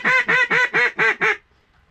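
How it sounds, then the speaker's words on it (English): A single duck quacks six times in a steady rhythmic series, loud and close, then falls silent. "There's a single duck in all of this."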